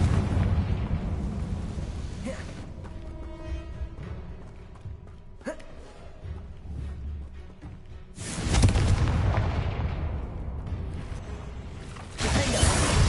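Confringo fire-blast spells cast in the Hogwarts Legacy video game, with loud booming explosive bursts and rumbling debris, then a quieter stretch before another heavy blast.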